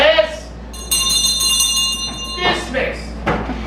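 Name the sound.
old schoolhouse bell ringing to dismiss class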